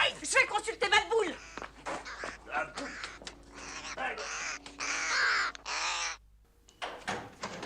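Three crows cawing outdoors, a burst of harsh, rasping calls overlapping in quick succession, fairly close, with voices talking over part of it.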